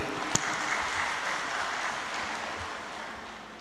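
A crowd applauds steadily, a dense wash of clapping that slowly fades, with one sharp knock early on.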